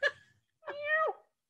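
A cat gives two distinct meows, a short one followed by a longer drawn-out one after a brief pause, fairly close and clear with no talk over them.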